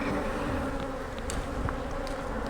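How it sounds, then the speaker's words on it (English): Honeybees hum densely around a three-deep triple-decker hive, a close, steady buzzing swarm sound with occasional individual bees passing near. "A lot of bees up there for 3 deep."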